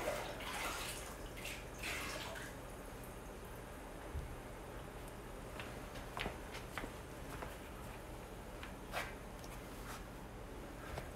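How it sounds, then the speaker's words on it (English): Water poured slowly into a DO!Aqua 45S aquascape aquarium: a soft, continuous trickling hiss with occasional light splashes and drips, steady and fairly faint throughout. "Start pouring in water really slowly."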